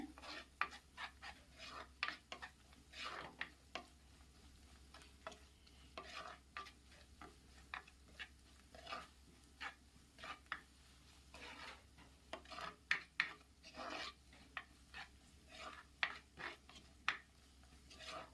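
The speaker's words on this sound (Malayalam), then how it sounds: "ഇത് നല്ലതുപോലെ ലോ ഫ്ലെയിമിലിട്ട് നമുക്ക് നല്ലതുപോലെ ഒന്ന് ഇളക്കി ഇതിൻ്റെ പച്ചമണം മാറുന്നവരെ ഇളക്കി കൊടുക്കാമേ" Spoon scraping and stirring chili and turmeric powder in a pan over a low flame while making ash gourd curry, steady repeated scrapes with a faint sizzle, close and alone.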